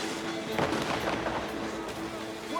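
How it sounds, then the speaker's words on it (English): Ship cannons and mortars fire during a naval battle in the Assassin's Creed Rogue video game: several booming blasts and rumbling explosions pile up over a couple of seconds, loud and close, with voices shouting over them. "Cannon ready! Our mortars. Fire!"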